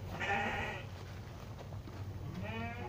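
A newborn sheep bleats twice, close and clear, with a quiet gap between the cries over a low background hum.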